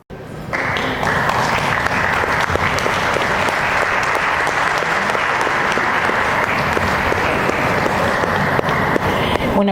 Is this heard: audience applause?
yes